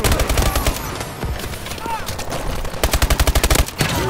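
Automatic gunfire in a first-person shooter video game, with loud rapid shots throughout and a sharp, evenly spaced burst near the end, the shooting dense and close.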